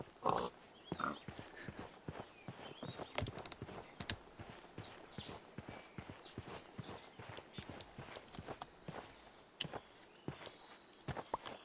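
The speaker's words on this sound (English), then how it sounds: "I'll be able to mount those horses." Horses in a Minecraft-style video game, a steady, fairly close run of hoof-like clip-clop steps with occasional higher game effects over a quiet background.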